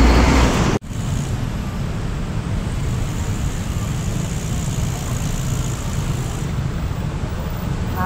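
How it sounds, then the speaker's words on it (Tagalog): Heavy road traffic on C5 Katipunan in Metro Manila forms a loud, constant roar of engines and tires, heard from a moving motorcycle, with a brief dropout near the start and steady noise afterward. "Traffic guys."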